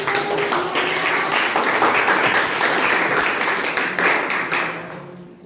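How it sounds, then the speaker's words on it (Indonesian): Classroom of students clapping together during a lesson on Archimedes' principle, a dense burst of applause lasting about five seconds before tapering off, with faint voices mixed in. "tepuk tangan dulu."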